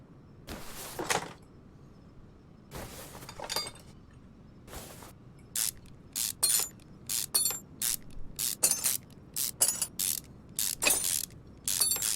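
Manifold bolts come out in Car Mechanic Simulator 2021, a run of quick ratcheting bursts, sparse at first and then rapid and repeated, crisp and close with no talking.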